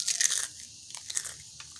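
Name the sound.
crunchy peanut crackers (peyek kacang) being crumbled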